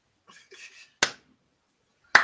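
Two crisp, isolated clap hits from a hip-hop beat snap out about a second apart, with soft quiet murmurs before the first hit.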